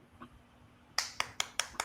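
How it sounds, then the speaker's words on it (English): Five sharp hand claps in quick, even succession, close and loud, following a brief soft sound in a quiet room. "you get a hand clap from me."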